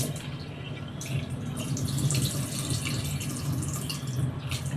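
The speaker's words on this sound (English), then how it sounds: "you need to wash it several times to remove the blood inside" Pork liver is rinsed under running tap water in a kitchen sink, with a steady splashing flow and intermittent louder sloshes as the meat is handled, close and continuous without talk.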